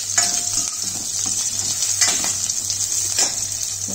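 Ingredients for a Tulu-style ripe mango gojju sizzle steadily in hot oil, with stirring scrapes and a few utensil knocks against the pan, loud and close throughout.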